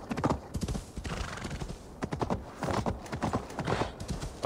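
A horse in Assassin's Creed Valhalla gallops with rapid, rhythmic clip-clop hoofbeats in quick bursts, accompanied by neighing, sounding fairly close against quiet game ambience.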